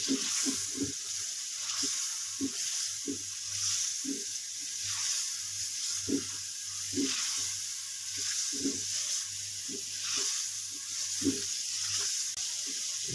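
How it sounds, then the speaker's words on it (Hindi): Chicken koftas fry in a spiced masala, giving a steady close sizzle broken by irregular soft knocks and scrapes of stirring. "अब मैं इसमें कोफ्तों को ऐड करूँगा, इनको भी भूनना।"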